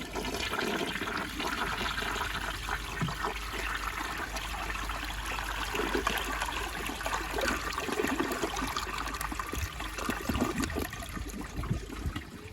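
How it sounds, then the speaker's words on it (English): A 1981 Eljer Emblem toilet on a flushometer valve, with the water supply turned down, flushes in a steady rushing gush of water that continues at an even level for a long stretch, close and alone. "this flush should honestly be weak"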